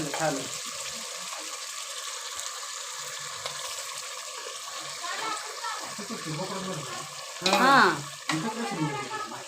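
Cooked mutton frying in a hot spiced oil tempering, a steady broadband sizzle with occasional stirring scrapes, growing louder near the end; a voice talks briefly underneath.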